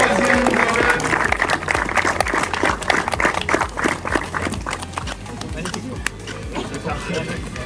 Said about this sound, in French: on va pouvoir les applaudir